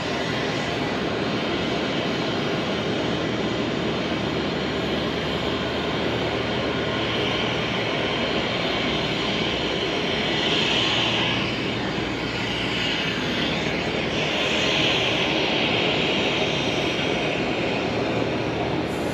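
Pitts aerobatic biplane in flight, its engine droning loudly and continuously from up close, with slight swells in intensity and no voices.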